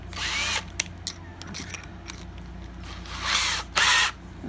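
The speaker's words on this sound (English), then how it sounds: "Then I go to a bigger drill bit." A power drill fitted with a bigger quarter-inch bit bores through a plastic 6-quart shoebox tub in short close bursts, an opening whir, scattered clicks and handling, then two louder buzzing runs near the end.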